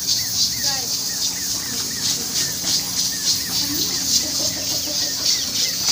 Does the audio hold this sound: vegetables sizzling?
no